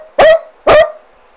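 A person imitates a dog with their voice, giving two loud, sharp barks about half a second apart, alone with no other sound.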